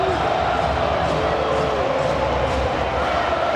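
Stadium crowd of close to 50,000 at a Miami college football opener against Bethune-Cookman, a loud steady roar of massed voices with no break.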